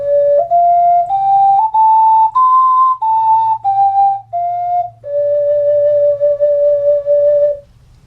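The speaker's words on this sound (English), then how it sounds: "When we add this note to the major pentatonic scale, it becomes the minor pentatonic scale." A six-hole ocarina plays a minor pentatonic scale, clear breathy whistle-like tones stepping up through about five notes and back down, each held briefly, ending on a long sustained low note, close and alone.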